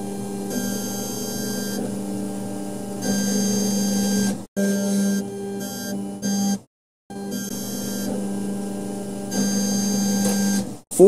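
A Chinese K40 laser engraver cutting 3mm basswood hums steadily in repeated passes, its droning tone stopping briefly and then starting again, recorded close and without talking.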